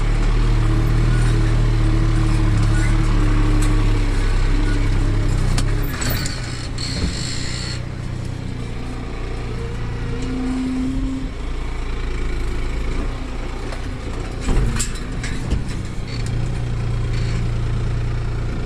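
A New Holland TT4.65 tractor's diesel engine runs steadily at a low, constant throb, close and continuous, with some mechanical clatter and a brief rise in noise midway.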